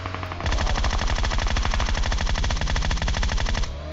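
An M416-style automatic rifle in a mobile battle royale game fires one unbroken burst of rapid gunfire, loud and close, lasting about three seconds before stopping.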